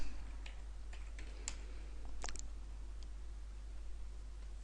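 Computer keyboard typing of a search term, a few scattered light key clicks spread across a quiet room hum, soft and close with irregular gaps between strokes.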